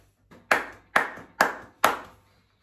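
Four sharp hand claps are recorded for a music track, evenly spaced about half a second apart, each ringing briefly with room echo in an otherwise quiet space.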